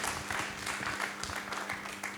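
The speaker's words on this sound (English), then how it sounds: "Please join me in a round of applause for them." A round of applause for the panel at the Impact Breakfast, a fairly faint but continuous clatter of many hands clapping across a room, even in intensity with no speech on top.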